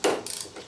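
A 12mm socket wrench loosens a power steering pump fastener on a 1994–97 Honda Accord, giving a brief burst of close, quick ratcheting clicks in two short bursts.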